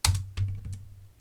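Keys on a computer keyboard are typed in a short burst of a few crisp, close clicks, with no talking.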